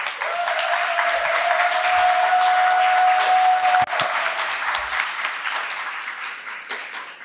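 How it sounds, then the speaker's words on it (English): Audience at an honor society induction ceremony gives the inductees a round of applause, steady and full for several seconds with a thin whistle-like tone over part of it, then slowly fading. "Let's give all our inductees a final round of applause."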